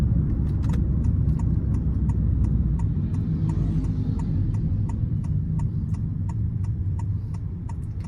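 A Honda HR-V with a CVT is engine braking while driving. A low, steady engine and road hum fills the cabin, with a faint, regular ticking running over it throughout.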